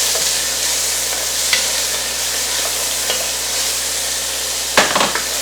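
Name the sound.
frying onions, green chili, garlic and cilantro together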